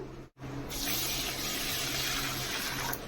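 Broken raw white rice grains being rinsed with water, a steady close splashing and running-water rush after a brief opening pause, continuing without talk.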